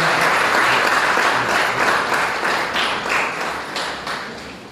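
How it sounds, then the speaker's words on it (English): Audience applause at the Nurturing Achievers Foundation Awards for Excellence ceremony in Trinidad, a full, dense burst of clapping that starts strong and slowly thins and fades over a few seconds, with no talking. "we must give him a round of applause"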